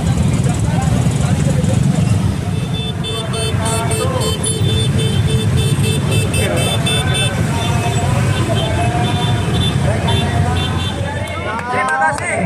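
Traffic at a street protest by contract workers in Jember, with a car passing amid steady engine and road noise, short horn toots scattered through, and a crowd murmuring beneath loud talk.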